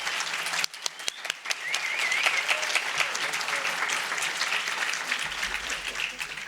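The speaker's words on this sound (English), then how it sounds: "We can give a big round of applause." An audience at an art history society event gives a sustained round of applause, many hands clapping evenly with a few sharper individual claps standing out and a voice briefly audible within it.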